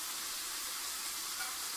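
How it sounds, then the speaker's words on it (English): Salmon fillet sears in a pan on a stovetop with lemon dill dressing, giving off a steady, quiet, close sizzle with an even hiss and no talking. "Just kind of sizzle that around."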